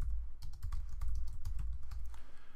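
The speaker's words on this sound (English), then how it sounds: "Gotta make sure I type it in correctly." Rapid keystrokes clatter on a computer keyboard, close and clear, in a brisk uneven run of clicks with a low thumping undertone from the desk.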